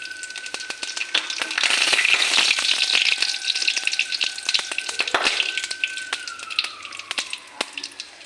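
Crackling, sizzling whole spices (cumin, cloves, cardamom) frying in a hot pan, close and busy, with sharp pops scattered through the steady hiss.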